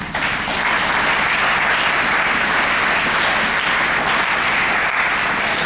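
A church congregation claps in loud, dense, continuous applause that fills the room evenly from start to finish, with no voices standing out.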